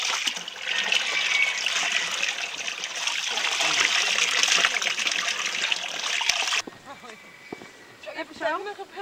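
Cold water gushes loudly from a bathroom tap in a Thailand hotel room, a steady broadband rush for about six seconds before it is shut off, followed by quieter trickling while people talk.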